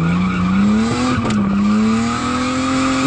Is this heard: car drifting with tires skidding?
yes